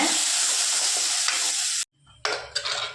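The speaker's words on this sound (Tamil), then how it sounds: "இப்போ வெங்காயம் சேர்த்துட்டு நல்லா வதக்கி விட்டுக்கோங்க" Onions with asafoetida sizzle loudly in a pan while being stirred, a dense close frying hiss that cuts out for a moment and then resumes with scraping strokes of the spoon.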